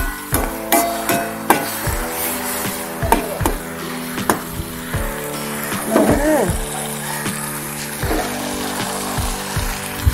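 Curry leaves frying in a pan for a Tamil-style mutton brain curry, crackling and sizzling steadily under repeated sharp knocks and stirs of a spoon against the pan.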